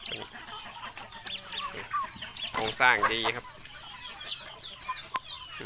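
Chickens and roosters cluck and call in a Thai poultry yard after rain. The birds are close and moderately loud, with a bright burst in the middle, while someone talks over them.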